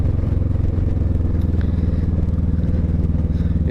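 A Kawasaki Vulcan S 650 motorcycle with an aftermarket exhaust rumbles steadily at close range, a deep, loud, pulsing engine note that holds throughout with light rattly texture on top and no break.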